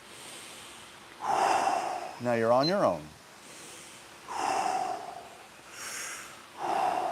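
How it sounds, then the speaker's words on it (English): Forceful rhythmic breathing from a guided breath fitness exercise: strong, regular breaths repeat about every two seconds, close and loud, with a spoken instruction in the middle. "This will be 2 minutes worth of breathing, approximately."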